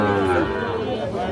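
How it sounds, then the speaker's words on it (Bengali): A young Sahiwal bull calf, about four months old, lets out one long, loud moo close by at a cattle market, filling the whole short moment. "এই শাহিওয়াল সার বাছুর, 5-6 মাস বয়স হবে না?"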